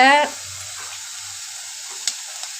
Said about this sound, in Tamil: இப்போ இங்கே தக்காளி வெங்காயம் பூண்டு சின்ன வெங்காயம் எல்லாம் நல்லா வதங்கிருச்சு பாருங்கள்